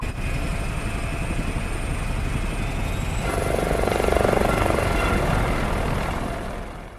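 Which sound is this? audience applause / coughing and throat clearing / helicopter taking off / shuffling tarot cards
helicopter taking off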